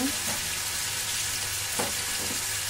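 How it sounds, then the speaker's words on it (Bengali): Ginger paste sizzling in hot oil in a pan, a steady close frying hiss with a couple of soft scrapes from stirring, no voices. "আদা পেস্টটাকে সামান্য নাড়িয়ে দিয়ে দেবো"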